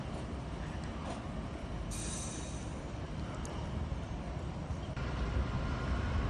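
Train carriages pulled by a red locomotive roll past on a track in Pekalongan, a steady close rumble of wheels on rails with brief squeals and clatter, growing heavier toward the end.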